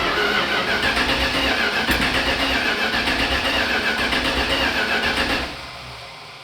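A 1987 Dodge Ramcharger truck engine cranks over in a loud, steady, rhythmic churn for about five seconds, then stops without catching.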